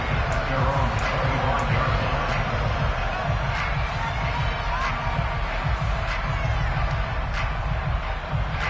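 Home crowd cheering at an NFL-style football playoff game, likely in a video game with the Colts; a steady, loud stadium roar with sharp periodic clapping or stomping accents, sustained throughout.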